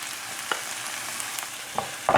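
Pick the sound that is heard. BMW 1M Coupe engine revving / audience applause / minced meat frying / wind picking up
minced meat frying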